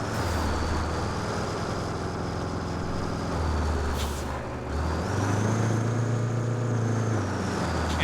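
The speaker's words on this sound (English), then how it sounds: "This truck climbs the hills pretty good." A heavy truck in Roadcraft hauls uphill with a steady low engine drone, pitch rising and falling as it labors, with a brief hiss like an air brake midway and no talking.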